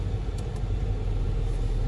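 Steady low engine rumble inside a moving car, constant and close, with no talking.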